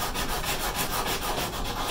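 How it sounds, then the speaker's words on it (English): Steady back-and-forth scratching of sandpaper rubbed by hand across wood, with rhythmic strokes about every quarter second, close and continuous. "Maybe I shouldn't be talking while sanding"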